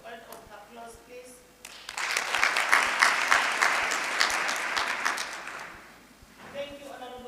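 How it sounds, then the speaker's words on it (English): A round of applause at a senior citizens sector parliament session, swelling from a voice into a sustained crowd clapping that fills the room for about four seconds, then fading as speech resumes. "Can we give him another round of applause, please?"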